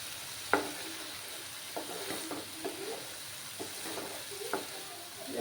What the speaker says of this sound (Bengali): এগুলো এখন একটু ফ্রাই হতে থাক। পেঁয়াজ আর রসুনগুলো ভালো করে ভাজা হয়ে যাক